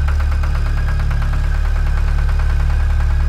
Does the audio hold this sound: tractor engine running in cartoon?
yes